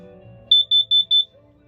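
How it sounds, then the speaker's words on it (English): Four short, high-pitched electronic beeps from a smoke detector being tested inside a 2014 Lance 1050S truck camper, in quick, even succession, close and clear over a quiet background. "It's the same button to test it, to cause it to beep and go off"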